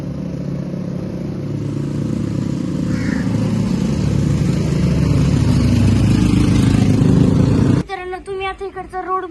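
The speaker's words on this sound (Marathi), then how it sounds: "तुम्ही बघू शकता ह्या गाडी बीचला चालल्यात आता" Cars and motorcycles on a road heading toward Murud beach give a loud, continuous engine rumble and road roar, close by, for most of the clip before it cuts abruptly to a different, quieter sound.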